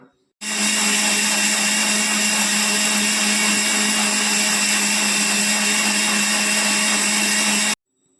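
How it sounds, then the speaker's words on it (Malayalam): A kitchen mixer grinder runs at full speed blending a frozen homemade ice cream mix, giving a loud, steady motor whine that starts and stops sharply. "ഇനി പുറത്തെടുത്ത് നമുക്ക് ഇനി മിക്സിയിലൊന്ന് അടിച്ചെടുക്കാം"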